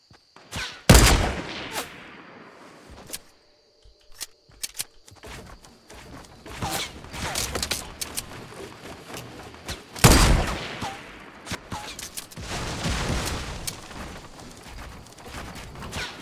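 Gunshots in Fortnite, with sharp broadband bursts around one second and ten seconds followed by scattered shots, footsteps and gear rustle at moderate loudness, no talking.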